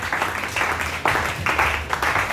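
A church congregation breaks into sustained applause during a French- and Lingala-language worship service, a dense wash of clapping that swells in repeated bursts over a low hum of voices and music.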